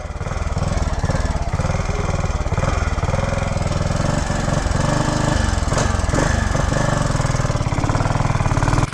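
A 1967 Harley Davidson Sprint motorcycle engine runs steadily and loudly throughout, a close, continuous single-cylinder putter with a rapid rhythmic chug and no talking.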